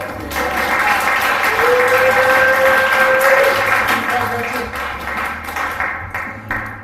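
Audience applause for a poet at a bay-area poetry reading, a steady dense wash of clapping that fills the room and tapers slightly toward the end.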